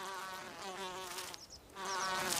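A wasp buzzes steadily nearby with a strong harmonic drone, briefly dropping away halfway before the buzzing returns just as loud.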